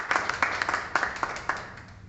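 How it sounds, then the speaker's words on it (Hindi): A small audience claps at an event honoring a guest, a short patter of scattered, uneven handclaps that thins out within a couple of seconds. "सो इनके लिए भी एक बार जोरदार ताली।"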